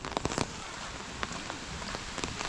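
Steady rain pours down in a storm at an outdoor historic village park, a dense continuous hiss with scattered louder drop hits, no talk.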